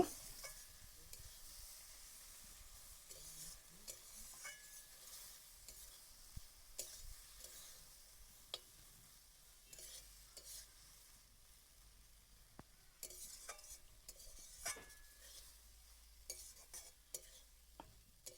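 Okra curry with cumin-mustard paste frying in a pan as it is stirred; soft, faint sizzling with scattered scraping clicks from the spoon, no talk.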